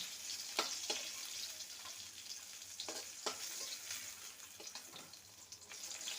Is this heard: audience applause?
no